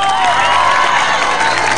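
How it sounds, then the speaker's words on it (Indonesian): A studio crowd on an Indonesian travel show about Banten debus performers cheers and claps, a dense, loud wash of shouting and applause lasting a couple of seconds. "tepuk tangan semuanya dong"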